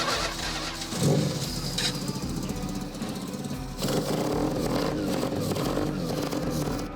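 A factory race Mazda engine with a carburetor, rated around 285 horsepower and fitted to a restored WWII Valiant V-77 aircraft, roars loudly and steadily, surging near the start and again partway through.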